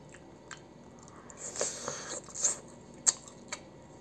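Close, soft chewing and biting into tender ribs, a few moist crunchy bites and squishes spread over a few seconds, alone with no talk.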